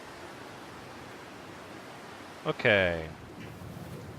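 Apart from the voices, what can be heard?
wind blowing in the video game The Long Dark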